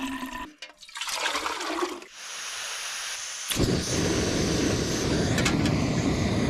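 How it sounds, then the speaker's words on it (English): Water pours and trickles through a gravity filter into a cup outdoors, starting with uneven gurgles and splashes, then settling into a steady close hissing stream that continues to the end. "This is gonna filter all the poop out of the water, and gravity will take it and put it right into my cup."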